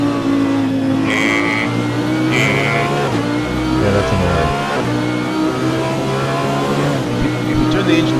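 A race car engine in a racing video game set at Bathurst howls continuously, revving and shifting over a steady mechanical note, with a voice faintly audible underneath.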